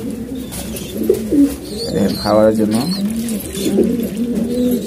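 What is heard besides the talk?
pigeons cooing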